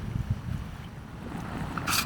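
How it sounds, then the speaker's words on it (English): Breezy outdoor wind buffeting a microphone beside a homemade soda-can alcohol stove, a steady low rumble throughout with a brighter gust near the end. "it is a little breezy today"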